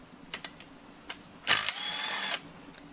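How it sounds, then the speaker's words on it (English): A ratchet wrench working bolts loose on an oil pan for a Holley Gen V LT swap gives a few quick clicks, then a longer, louder continuous ratcheting burst, up close in a quiet shop. "Now, we're gonna pull all these bolts."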